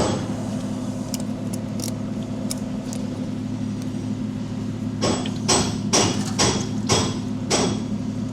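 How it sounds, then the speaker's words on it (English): Metallic clanks and knocks from working an engine oil filter loose on a compact TYM or Branson tractor during a 50-hour service, scattered taps early then a cluster of sharper hits near the end, close and fairly loud over a steady hum. "let's start with pulling off this engine oil filter"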